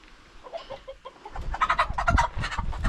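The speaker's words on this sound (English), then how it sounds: "Oh, that is a rooster." Farm chickens and a rooster cluck at night, soft scattered clucks at first, then a louder, busier burst of close clucking and squawking with low rustling underneath.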